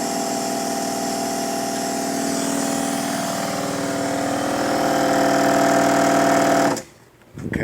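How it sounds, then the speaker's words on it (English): Ford Expedition engine idling steadily after start-up, a loud continuous mechanical hum with a rhythmic tick, running alone until it cuts off abruptly near the end. "turn the key on, see if it kicks on."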